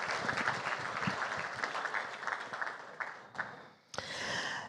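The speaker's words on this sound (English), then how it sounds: "let's have a full round of applause for those bachelor's and master's accomplishments" Sustained audience applause at an awards gala honoring bachelor's and master's graduates, a dense, even wash of clapping that briefly dips near the end and then swells back up.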